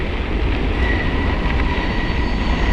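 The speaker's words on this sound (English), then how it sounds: "That sound you hear is the train." A train rolls past close by along the C&O towpath, a steady loud rumble of wheels and rail noise with a faint high squeal running through it, continuous for the whole stretch.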